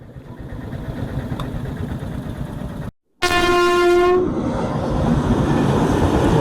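A train passing close by on the railway near Prayagraj, with a steady rumble and clatter of wagons, interrupted by one loud sustained horn blast of about a second.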